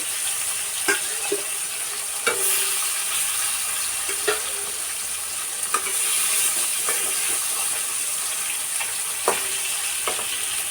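Continuous loud sizzle of fish frying in oil, punctuated by scattered metallic clinks and taps from a utensil; no voices.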